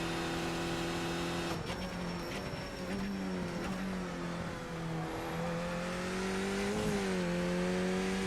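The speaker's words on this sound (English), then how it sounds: "Probably kick up the engine noise a little bit there." A Skip Barber race car engine in iRacing drones loudly and steadily throughout, its pitch rising and dipping as it revs through gear changes, with a faint squeal now and then.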